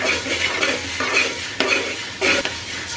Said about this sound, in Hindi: लो टू मीडियम फ्लेम पे लगातार चला के कुरमुरा को भून लेते हैं